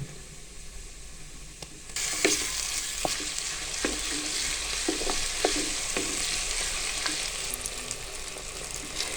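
Garlic ginger paste sizzles and fries steadily in a pan after a sudden start, with occasional clicks and scrapes of stirring, fairly close and without talk.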